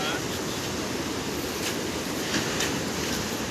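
Ocean waves surge and wash against the rocks below a cliff on the Konkan coast, a dense continuous roar mixed with wind buffeting the microphone.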